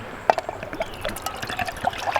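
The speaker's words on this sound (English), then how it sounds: "We'll add some water to it." Water pours from a Marine Corps canteen into a pot, a close gurgling trickle with small splashes and glugs spread irregularly over about two seconds.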